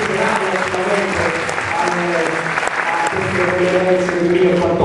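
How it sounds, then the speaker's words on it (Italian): A theatre audience at a CONI sports awards event at Teatro Fellini in Pontinia applauds steadily, with the clapping mixed with voices and what sounds like background music. "Quindi un grande applauso a questi personaggi"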